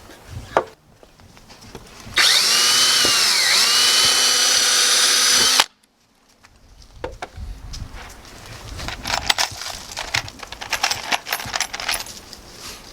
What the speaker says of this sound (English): I'll pre-drill the holes on the other side here too